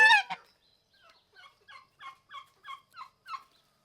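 A turkey gobbles nearby: one loud opening call, then a run of quieter, evenly spaced clucks trailing off.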